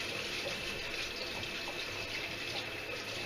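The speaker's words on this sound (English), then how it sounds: "Sometimes I like to actually clean them under running water." Veterinary instruments rinsed under a running tap, a steady broadband hiss of flowing water that stays constant and fairly loud throughout, alone with no voices.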